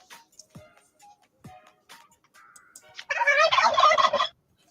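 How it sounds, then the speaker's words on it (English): Turkeys gobble nearby: a few faint scattered calls and clucks give way to one loud, rapid, warbling gobble that lasts about a second before cutting off. "Look at the size of them turkeys."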